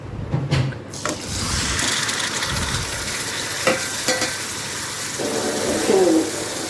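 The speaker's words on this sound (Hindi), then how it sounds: "मसाले पीस लिए, और अब मैं टमाटर डाल दूँगी" Tomatoes drop into a pan of sizzling ground spices, curry leaves, kasuri methi and turmeric, bringing a loud hiss and crackle of frying with a few close clinks and scrapes of stirring.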